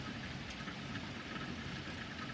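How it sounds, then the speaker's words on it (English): A steady hiss of rain falls continuously, an even wash of noise with no voices over it. "We got this rain shower."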